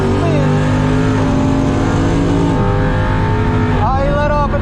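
A supercharged 5.7 Hemi drag car launches with wheelspin, its engine loud and close and rising in pitch, with tires spinning and a sharp revving surge near the end.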